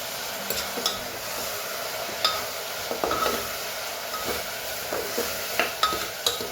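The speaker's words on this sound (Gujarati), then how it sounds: "થોડીક વાર શાકને થવા દઈએ" Vegetables seasoned with chili and salt cook in a pan, with scattered spoon scrapes and soft clinks against the pan over a low, steady sizzle and no talking.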